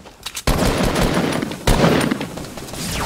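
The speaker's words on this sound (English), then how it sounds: "Guys, yeah, somebody shooting at me." Rapid video game gunfire, two loud bursts of shots with a sharp onset near the start and another volley partway through, crackling close up with no talk.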